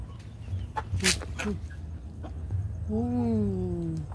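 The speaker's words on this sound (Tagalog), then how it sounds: "Beautiful chicken, beautiful chicken." Backyard chickens cluck in short bursts, with one drawn-out, wavering call near the end rising over faint farmyard background; a voice is briefly heard.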